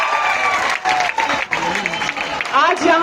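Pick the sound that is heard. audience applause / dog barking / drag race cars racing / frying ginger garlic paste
audience applause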